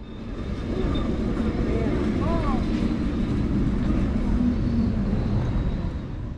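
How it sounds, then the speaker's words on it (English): A Lisbon Line 28 heritage tram, over 85 years old, rolls past in a convoy of trams, giving a steady rumbling drone with brief metallic wheel squeals partway through, rising in and fading out at the ends. "a whole convoy of Line 28 trams turned up"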